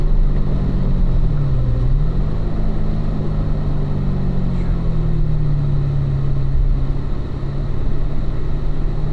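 A Corvette race car engine drones steadily on a racetrack during a driving school session, loud and continuous with a brief pitch dip as it slows, while an instructor's voice can be heard faintly underneath.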